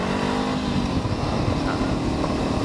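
A Honda CB500X motorcycle, 2019–2021 model fitted with a Leo Vince GP Corsa Evo exhaust, drones loudly and steadily while riding on a test run, the engine note mixed with heavy wind rush and no talking.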